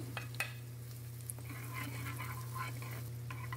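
Garlic and onion sautéing in butter for a chicken Bicol Express give a soft, steady sizzle under a low constant hum. A few light utensil taps and stirring scrapes come through and nobody talks.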